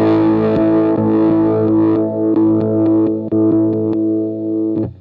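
Electric guitar run through a Dirty Boy Buzzy Boy fuzz pedal, with its frequency switch being adjusted: a loud, sustained distorted tone with repeated picked notes and chords ringing alone, no talk.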